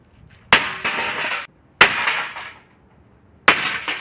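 Two-handed medieval mace striking steel armor, three loud metallic crashes, each with a short ringing clatter that fades, separated by brief silences.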